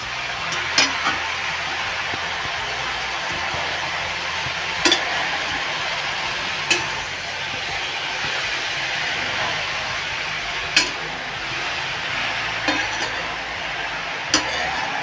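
Grated carrot is stirred in ghee in a pan over medium heat for carrot halwa, a soft continuous frying hiss broken by occasional sharp spoon taps against the pan.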